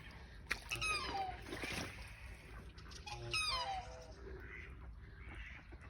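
Ducks or geese on a pond give several nasal squawks and honks in short bursts, fairly faint and set against outdoor ambience.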